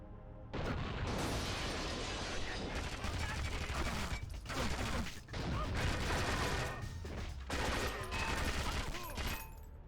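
Dense, sustained video-game gunfire: rapid overlapping automatic bursts and shots fill nearly the whole stretch, loud and close, with brief dips between volleys and a voice barely emerging under the barrage.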